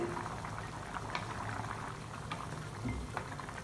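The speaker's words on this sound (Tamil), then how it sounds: "இப்போ நல்லா குழம்பு கொதிச்சு" Chickpea gravy (kondakadalai kuzhambu) bubbles in a pot, a steady close simmer with soft pops and blips throughout.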